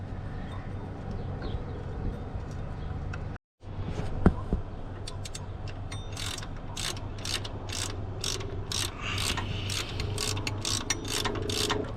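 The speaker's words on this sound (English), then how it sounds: "I'm screwing in the bolt little by little with my hands." A bolt is turned by hand into the belt tensioner of a 2004–2008 Ford F-150, giving a steady close mechanical whir with a run of rapid ratcheting clicks in the latter half.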